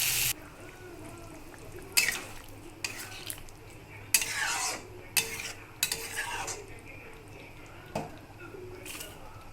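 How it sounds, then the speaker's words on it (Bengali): A spoon stirs and scrapes in a pan as a little water goes into crab curry, a series of sharp metallic clinks and scrapes over a low simmering hiss, close and moderately loud, no speech. "এবার আমি জল দিয়ে দেবো সামান্য।"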